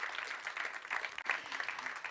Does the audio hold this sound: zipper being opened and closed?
no